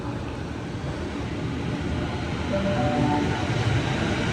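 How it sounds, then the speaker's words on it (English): A Sydney suburban train bound for Leppington pulls into a station on the South West Rail Link, a steady low rumble that swells slightly as it nears, with a faint tonal whine midway. "Got the Leppington train coming in now."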